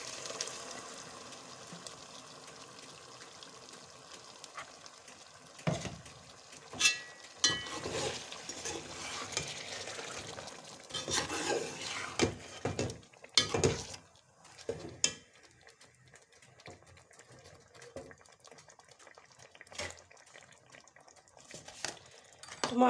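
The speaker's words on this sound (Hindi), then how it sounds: "अब मैं इसमें 3 बड़े टमाटरों का पेस्ट डाल दूँगी।" Tomato paste from three large tomatoes goes into a pot of frying chicken. A soft sizzle runs throughout while a spoon clinks and scrapes against the pot in irregular stirring strokes, fairly quiet and close.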